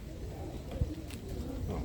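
Birmingham Roller pigeon hen giving soft, low coos, faint and close against a muffled loft background.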